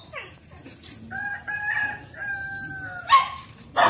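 A Japanese Shamo rooster crows close by in one long drawn-out call, followed by brief clucks near the end.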